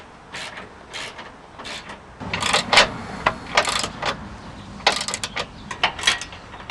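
Bull bar mounting bolts being tightened on a Chevy Silverado pickup, heard as a series of short ratcheting clicks in separate bursts, close by, with no talk.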